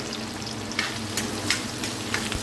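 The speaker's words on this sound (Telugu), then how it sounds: "కడాయి పెట్టుకుని ఆయిల్ వేడి చేసుకున్నాం ఇంకా కొద్దిగా జీలకర్ర వేసుకున్నాము దాని తర్వాతకి సన్నగా కట్ చేసుకున్న ఆనియన్ పచ్చిమిర్చి కూడా వేసుకొని" Sliced onions and green chilies fry in hot oil with cumin seeds, a close, continuous sizzle dotted with sharp pops and crackles, with no voices.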